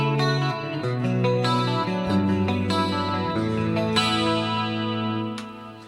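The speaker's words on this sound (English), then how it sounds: "There's a chorus that's just in series. That's a dimension 3. I really love these dimension choruses." Guitar played through a Dimension 3 chorus effect on a Fractal FM9/Axe FX III, clean sustained chords and single notes with a shimmering, widened chorus wash, ringing alone without any voice.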